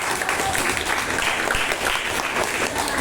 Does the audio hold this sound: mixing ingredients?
no